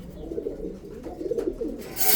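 Newly bought pigeons cooing nearby, a soft low repeated coo rolling on for a couple of seconds with a brighter rustle at the end, no voices.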